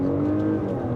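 A 2024 Porsche Cayenne E-Hybrid pulls away from a standstill, its engine noise building into a steady, loud drone with a low hum under it, close by and without any voices.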